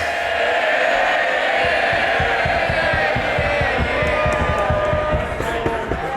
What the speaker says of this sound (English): Cheer him by all means, but don't damage.